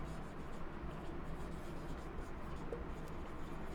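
Pen or marker writing notes in a classroom lecture on red blood cell production, a steady soft scratchy scribble running continuously and close, with no speech over it.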